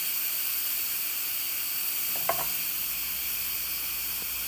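Steam rushes from an Instant Pot cooking potatoes as the pressure is released: a loud, continuous close-up hiss that holds steady the whole time, with a faint click partway through.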